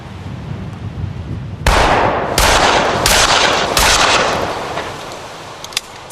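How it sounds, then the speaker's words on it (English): A shotgun blasts at a pair of jeans during an outdoor destruction test, with several loud, sharp bangs at irregular intervals following a quieter lead-in, each leaving a brief decaying tail. "Last but not least in our series of tests, the shotgun."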